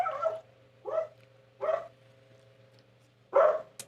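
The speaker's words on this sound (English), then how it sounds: "The sounds of the hounds." A hound barks four times in separate, evenly spaced bursts, moderately loud and close, over a faint steady hum.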